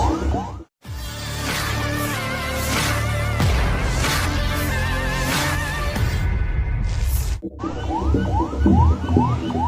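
A loud wailing ambulance siren sweeps up and down continuously, close by, as the ambulance pushes through floodwater, with heavy traffic and engine rumble underneath; the siren cuts briefly near the start.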